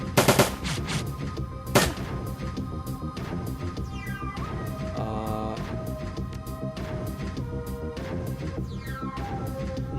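Rapid automatic gunfire from the video game Shadowrun: Dragonfall opens with a loud burst and a second sharp shot, then gives way to steady game music and ambient electronic tones, with no voices.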